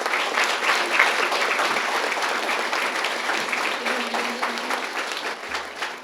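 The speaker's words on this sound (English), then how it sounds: "Let's give them a round of applause." An audience at a school board meeting applauds student honorees from San Benito High School: dense, sustained clapping that fills the room and slowly tapers toward the end.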